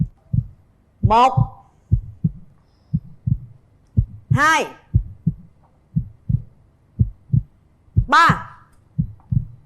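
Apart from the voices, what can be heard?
heartbeat sound effect on a TV show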